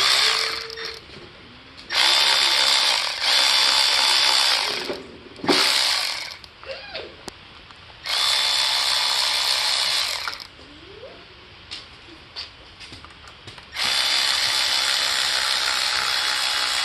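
Rapid ratcheting bursts come in several separate runs as nuts are tightened back onto studs during a 2015 85cc dirt bike top-end rebuild, loud and close with short pauses between them and no speech.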